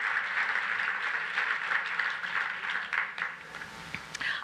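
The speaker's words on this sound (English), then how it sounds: "So I think you should all give yourselves a round of applause." Garden club meeting audience applauding, a dense patter of clapping that holds steady and then thins out into a few scattered final claps.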